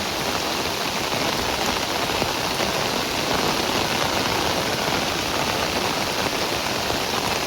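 Steady rain pours down in a village, a dense even hiss of drops beating on surfaces, constant and close for the whole stretch with no voices.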